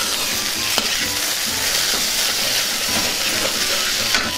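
Pieces of boiled, peeled taro root fry in a pan with a dense, steady sizzle, mixed with occasional scraping as they are stirred, close and fairly loud.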